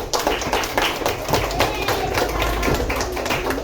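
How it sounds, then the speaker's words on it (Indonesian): Classroom applause for a student group, a steady crowd of hands clapping throughout, close and fairly loud, with voices mixed in. "Kita kasih aplaus untuk kelompok 2."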